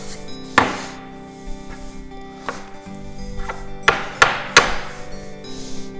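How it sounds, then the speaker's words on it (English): A ciabatta dough is cut in half on a floured bench, giving a few sharp knocks and taps against the board, near and clear, spaced irregularly over a quiet kitchen background. "so we're going to now cut this into half."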